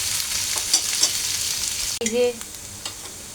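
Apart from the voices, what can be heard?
minced meat with potatoes and onions frying in pan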